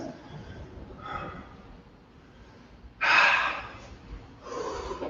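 Heavy, effortful breathing during a HIIT home workout, with a few faint breaths followed by loud, sharp gasping exhalations close to the mic, no talking.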